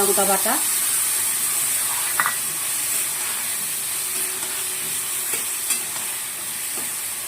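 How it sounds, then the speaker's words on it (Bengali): Vegetables fry in a pan while being prepared for a thin katla fish curry, a steady moderate sizzle and hiss with a few sharp clinks of a spoon against the pan, no talk. "সবজিটা ভাজা ভাজা করে দিয়ে দিলাম"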